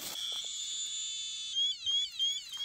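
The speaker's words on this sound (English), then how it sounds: "Attention, dose rate alarm 2, 247 microsievert per hour." Piercing electronic alarm from a RadiaCode-110 radiation detector triggered by uranium, a sustained tone that shifts into a warbling, stepped beeping pattern partway through, loud and close.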